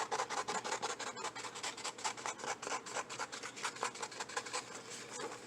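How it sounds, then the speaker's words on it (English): Rapid, steady scissor snips and paper rasping as a printed image is cut out, repeating throughout, close and fairly loud, with no talking. "So you hear me cutting it in the background."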